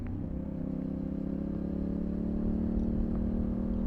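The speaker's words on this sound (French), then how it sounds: "elle a un très très joli son de bicylindre parallèle" An Aprilia Tuono 660 parallel-twin motorcycle engine idles steadily close by with a low, even throb, fairly quiet and unbroken throughout, with no speech.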